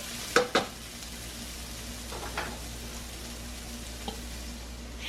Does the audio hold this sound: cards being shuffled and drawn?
no